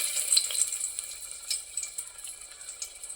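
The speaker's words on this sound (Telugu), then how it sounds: "నూనె కాగింది. ముందుగా ఎండుమిరపకాయలు వేస్తున్నా, తెల్లగడ్డలు" Dried red chillies are dropped into hot oil and fry with a soft, fairly faint sizzle that crackles in small bursts through the short stretch.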